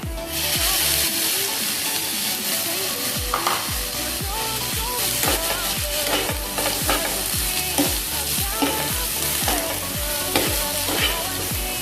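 Onions with green chilli are sautéed in a pan for an egg puff filling, with tomato frying. A steady close sizzle runs under regular, rhythmic spoon strokes scraping the pan, with no talking.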